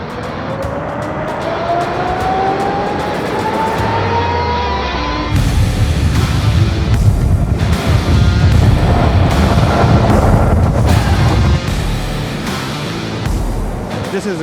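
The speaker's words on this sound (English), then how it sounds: "They're accelerating fast. Decelerating fast as well." A Nikola electric truck accelerating and decelerating hard on a test oval, a loud rising electric motor whine sweeping upward, then a broad rushing roar of drivetrain and road noise as it passes close by.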